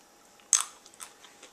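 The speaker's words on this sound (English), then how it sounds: "they're still a little crunchy" A single sharp crunch as soaked Savvy Seed seeds are bitten, followed by a few fainter chewing crackles, very close to the mouth.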